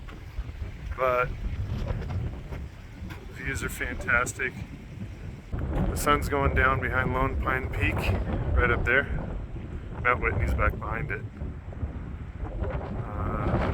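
Wind blowing across the microphone at a campsite near Lone Pine Peak and Mount Whitney at sunset, a steady low rumble with gusts that runs under someone talking throughout.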